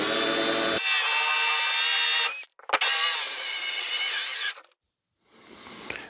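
A power drill bores holes through a Masonite Cheyenne interior door, two loud whining bursts split by a brief pause, then a quieter trailing spin-up, close and with no talk.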